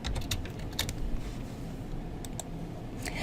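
Someone types on a computer keyboard in quick, irregular bursts of light clicking keys, close and fairly quiet, with short gaps between the runs of keystrokes.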